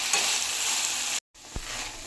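Okra frying in oil, a steady broadband sizzle that is loud and close, with a brief cutout of silence partway and a single low thump afterward.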